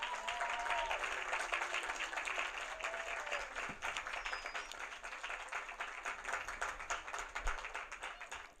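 Sustained crowd applause for teachers at a birthday celebration gathering in Jersey City, a thick even roar of clapping that holds steady throughout.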